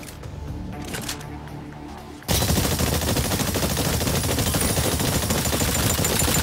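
Gunfire aimed at distant targets in the Exoprimal video game: after a quieter opening, a sudden dense burst of rapid automatic fire erupts and continues loudly without a break.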